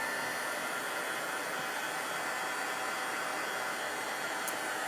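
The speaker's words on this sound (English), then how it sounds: "Actually, I hardly ever use my heat gun with this paste." Continuous, loud whooshing blow of a heat gun drying paste on a craft gnome decoration, steady and unbroken throughout with no talking.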